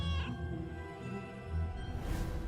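Cat meows inside the game Silver and Blood, a short close mewing call near the start over a steady bed of game music, with a brighter swell of sound toward the end.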